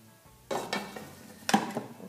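A metal cake pot is set back into a Cecotec GM Delux pressure cooker, making a few close clattering knocks and a sharp metallic clunk as it seats, with no talking.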